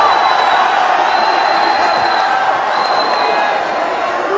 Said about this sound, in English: Listen to this crowd at Jakarta